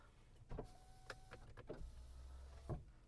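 Power windows of a Volkswagen Golf V whirring faintly inside the car, short motor runs with soft clunks at the start and stop of travel, quiet and close with no talk.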